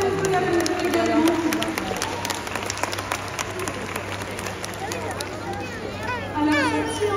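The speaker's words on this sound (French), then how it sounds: "on peut l'applaudir également." An audience claps at a Marineland France orca show for the orca Keijo, with scattered applause and crowd murmur running under a presenter's amplified voice.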